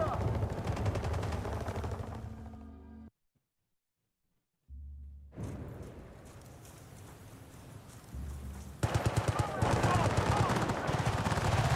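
Rapid automatic gunfire from the Battlefield 6 multiplayer game, loud dense bursts of shots that cut out to silence briefly, then resume with the heaviest volley at the end.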